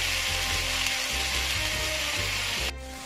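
Steak sizzling in a hot pan, a loud, dense, continuous hiss close up, with a low hum beneath that eases slightly near the end.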